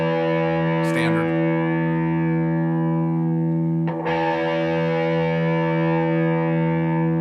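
An electric guitar in E standard tuning, distorted with delay and reverb, rings out sustained chords with two sharp strums a few seconds apart, loud and alone.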